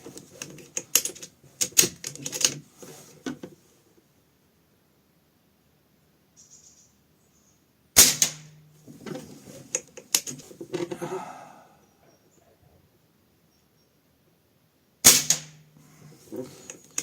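A Snowpeak PR900W Gen 2 PCP air rifle in 4.5mm fires three sharp, loud cracks spaced well apart, each followed by a brief mechanical clatter of handling, in an otherwise quiet setting.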